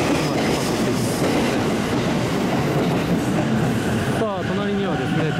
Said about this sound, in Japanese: 上野東京ライン籠原行きが出発していきました。